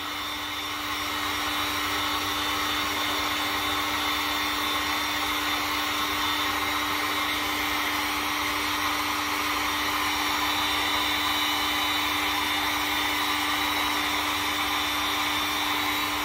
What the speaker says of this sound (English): You're gonna get your heat gun from a distance and start applying